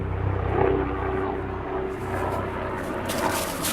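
A propeller airplane drones steadily overhead, a continuous engine hum with no voices, fading slightly toward the end.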